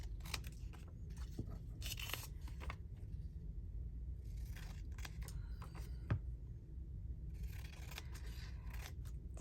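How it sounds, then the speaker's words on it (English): Scissors snip through paper during a craft ephemera session, a series of short crisp cuts spread unevenly across the stretch, close and moderately loud over a low background hum. "Snip the corners."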